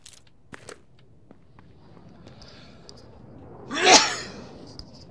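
A single loud sneeze bursts out near the four-second mark in an H1Z1 solo match, standing alone above quiet background with a few faint clicks and soft footsteps around it.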